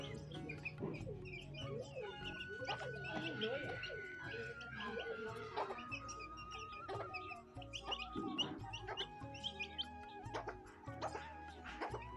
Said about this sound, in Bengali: মুরগিগুলো কি সুন্দর খাবার খাইতেছে